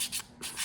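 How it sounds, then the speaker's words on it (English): Brief hand sanding with sandpaper cupped around a rounded surface, two or three soft rasping strokes close by in a quiet room. "you're gonna hold the sandpaper and kind of cup them so that they form to the surface"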